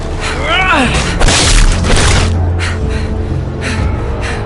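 Shots and a crashing impact ring out in the Game of Thrones Telltale video game, loud bursts in the middle of the clip under excited shouting voices.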